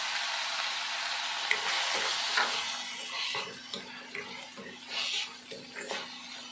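Finely chopped medium tomatoes hit hot oil in a pan with a bright, hissing sizzle, joined by scraping stir strokes and soft clacks as the pieces are moved around, the frying steady and close.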